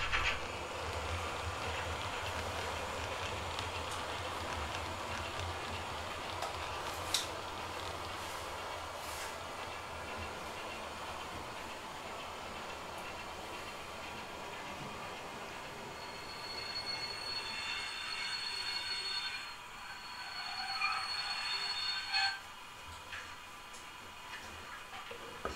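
An H0 scale model steam locomotive, class 35, hauls an express train on a private model railway, giving a steady rolling clatter of wheels on track with faint squealing that continues throughout, easing toward the end.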